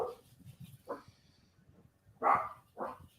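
Dogs bark a few times, with sharp separate barks at moderate distance, a pair of louder ones near the end, and low background murmur in between.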